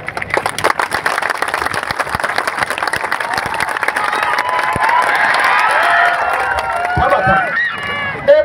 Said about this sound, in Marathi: तुमच्या टाळ्या पाहू मला